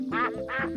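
Two quick nasal duck quacks, close and clear, back to back in under a second.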